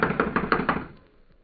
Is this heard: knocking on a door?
yes